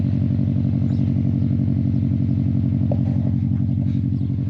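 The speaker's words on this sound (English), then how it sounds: "up and see what it sounds like with the new exhaust. I forgot that we should probably do a cold start" A Subaru WRX engine with a new 3-inch exhaust idles steadily after a cold start, a loud, close, even rumble with faint clatter and no talking.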